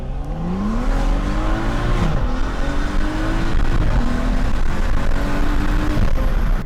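A car accelerates hard from a standstill with traction control mostly switched off. The engine is loud and close, revving and climbing through the gears with repeated rising pitch sweeps, and the roar is continuous throughout.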